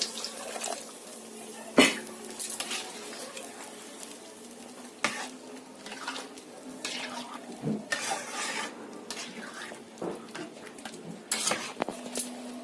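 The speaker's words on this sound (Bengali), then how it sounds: "এখন আমি অল্প জল দিয়ে দেব।" Water is poured into a sizzling pan of coconut malai prawn curry, the frying hiss mixing with the scrape and clink of a spoon stirring against the pot.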